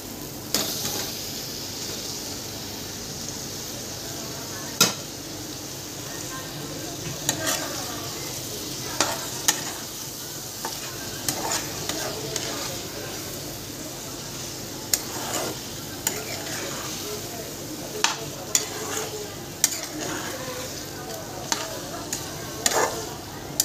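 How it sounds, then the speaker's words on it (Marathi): Cooked chicken sizzles steadily in a kadhai while a spoon stirs it, scraping and clinking against the metal at irregular intervals, close and clear, with faint bits of speech now and then. "आता मस्तपैकी हे चिकन शिजलेलं टाकते कढईमध्ये."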